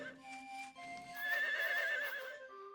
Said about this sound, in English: Well, that's my horse!